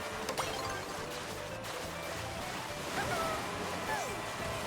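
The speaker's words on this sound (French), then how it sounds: "Le remous des vagues me perturbe trop en fait quand je suis dans l'eau." Waves swirl and wash continuously around a swimmer in the water on a video game map, forming a steady watery surge with a few faint tonal chirps over it.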